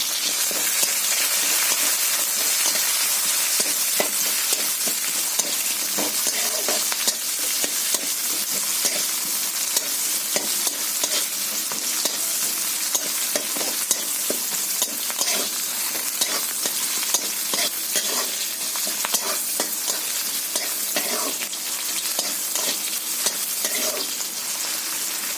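Chilies frying in hot oil in a pan while being stirred, a dense, even, close sizzle that carries on without pause, dotted with small crackles and scrapes.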